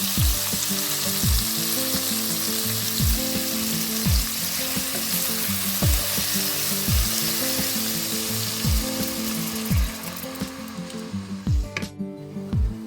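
Tomato sauce sizzling and bubbling in a pan after water is poured in, a steady loud frying hiss with repeated stirring scrapes throughout, no voices.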